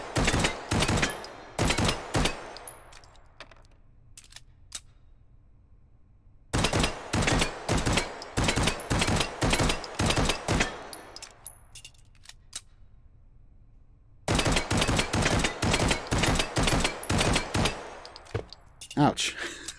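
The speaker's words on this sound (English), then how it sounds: "I'm gonna have a little fun shooting these targets." Rapid bursts of gunfire from targets being shot in the VR game Hot Dogs, Horseshoes & Hand Grenades, three loud volleys of sharp repeated shots separated by near-silent pauses.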